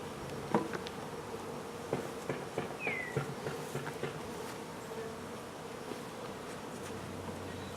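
Honeybees buzzing around a hive being installed, a faint steady drone broken by occasional close passes and soft knocks.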